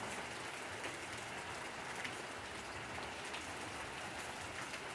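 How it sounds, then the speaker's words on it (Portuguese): Rain falls on plants in a home garden and backyard, a steady, dense patter and hiss that stays even throughout with no talking. "Maravilha de chuva"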